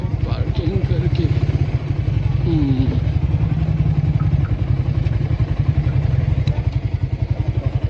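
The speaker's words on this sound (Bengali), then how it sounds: "এইখানে বাইক পার্কিং করকে।" A motorcycle being parked near the Shoilopropat waterfall, its engine running with a steady close putter and some clatter while people talk over it throughout.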